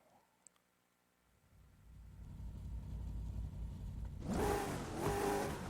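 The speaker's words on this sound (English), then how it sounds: "let's give it a little rev" Saleen / Shadow V8 race car engine in Assetto Corsa, quiet at first, then a low engine rumble building and revving up loudly with two strong surges near the end.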